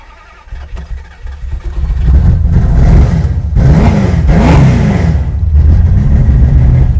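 A 1968 Dodge Dart GTS pro street V8 starts after long disuse, settling into a loud, lumpy rumble close by, with revs climbing and falling twice before returning to a rough idle.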